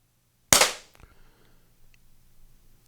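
A single sharp crack from an Umarex HDP50 air pistol, fired close by, fades quickly into a short tail with a faint click afterward.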